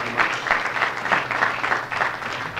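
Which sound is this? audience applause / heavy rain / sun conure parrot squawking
audience applause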